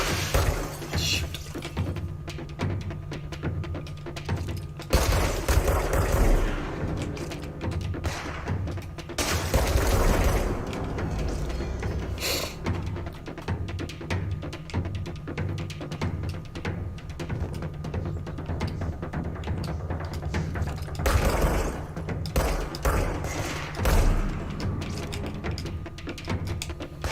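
Rapid gunfire bursts from the video game Control, loud and close, firing in clustered volleys with gaps between them over a dense low background, no talking.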